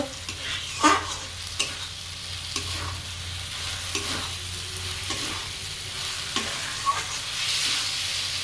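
Sabudana khichuri with spices being stirred in a frying pan over a high flame, a steady sizzle punctuated by regular scraping strokes of the spoon roughly every second.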